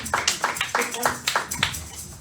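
A church congregation claps in rhythmic bursts during a worship service, the hand claps steady and fairly close, with voices mixed in beneath them.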